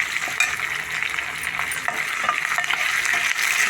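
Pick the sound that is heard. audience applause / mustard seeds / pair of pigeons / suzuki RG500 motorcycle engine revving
mustard seeds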